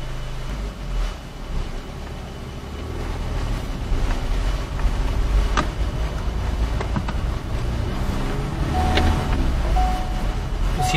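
A car drives along a mountain road from Dhotrey to Pelling, with a steady engine hum and road rumble heard from inside the cabin and occasional faint clicks and rattles.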